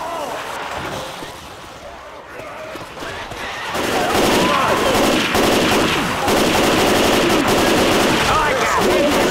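Gunfire in Left 4 Dead 2 as players shoot at mud men near a drain pipe, dense rapid bursts growing louder after a few seconds and running continuously, with game ambience and voices underneath.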